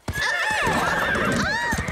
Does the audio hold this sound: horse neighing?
yes